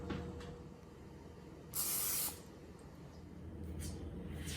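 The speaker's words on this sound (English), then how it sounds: "Light coating of pan spray will do." A can of canola oil pan spray gives a single short hiss of about half a second while greasing a pan. The spray is close and stands out against quiet room noise.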